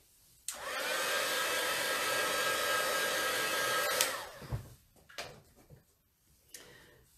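A hair dryer blows steadily on freshly stamped cardstock for about three and a half seconds, then clicks off, leaving a few light handling knocks and taps.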